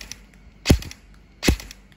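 An E&C 827 Gen2 airsoft rifle with a 9.5-inch front end fires two sharp, snappy shots about 0.8 seconds apart. Each crack is close and crisp over a quiet background.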